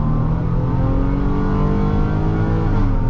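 A Ford Police Interceptor Utility Hybrid with the 3.3L engine accelerating at full throttle, a loud, steady engine roar heard from inside the cabin with no talking.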